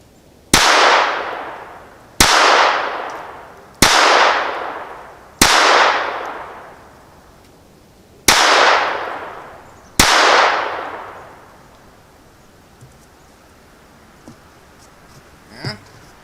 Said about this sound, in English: Now we'll go back to 10 yards. Now let's shoot at that bottom left side.